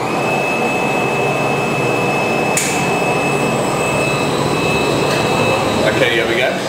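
A wine bottling line machine runs at a winery with a loud, steady mechanical whir and a high whine, marked by a sharp clack partway through and rattling clinks near the end.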